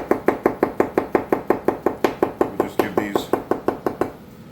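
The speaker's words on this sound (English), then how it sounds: "Mince our garlic up." A knife mincing garlic on a cutting board taps in a fast, steady rhythm, about five crisp chops a second, close and clear, and slows only near the end.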